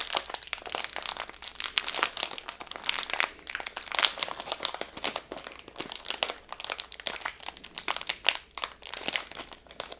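Crinkly plastic packaging from a Pokedex building kit is crumpled and torn open up close, a dense, continuous crackling that keeps going throughout.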